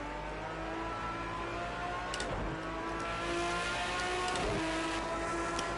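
Race car engine idling in a racing video game at Daytona, a steady, fairly quiet harmonic drone that holds level with slight swells.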